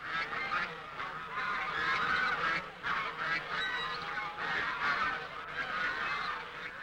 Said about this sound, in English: And then, of course, there are the geese.